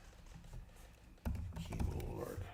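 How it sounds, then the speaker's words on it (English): A computer keyboard is typed on, with a quiet patter that rises to louder, denser clatter partway through, close up over background noise. "Keyboard."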